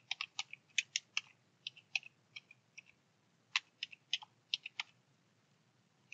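Someone types a file name on a computer keyboard in short bursts of crisp, close clicking keystrokes with brief pauses in between and no talking.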